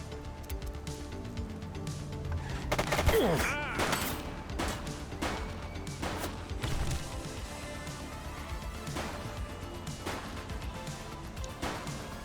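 Gunfire in the police game The Precinct, a dense burst of shots and cracks peaking early, then scattered bangs under voices and background game sound.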